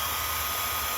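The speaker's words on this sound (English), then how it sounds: "I'm just using an ordinary heat gun here" An ordinary heat gun blows steadily at close range, a continuous airy hiss with a low motor hum, unbroken and alone.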